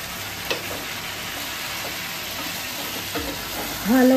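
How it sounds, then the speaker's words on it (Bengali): Mixed vegetables and spices being sautéed and stirred in a pan for a Bengali Ashtamangala jhol: a steady close sizzle with scraping stir strokes, a few sharper clanks, and a brief louder burst near the end. "ভালো করে একটুখানি কষিয়ে নিতে হবে, এপিট ওপিট করে প্রত্যেকটা সবজির গায়ে যাতে মশলাটা ভালো করে লাগে"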